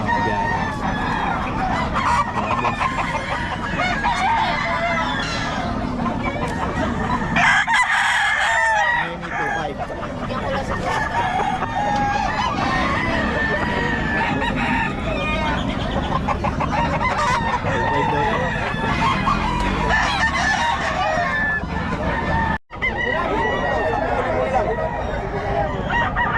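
Many chickens clucking and roosters crowing at a busy poultry market in Bocaue, noisy, with people talking and chattering throughout amid the birds.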